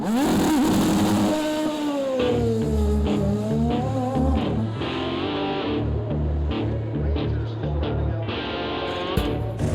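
A Champ Car race car pulls out of the pits on new tires and a retuned suspension, its engine loud and close, revving and climbing through gears with a steady, harsh roar across the whole stretch.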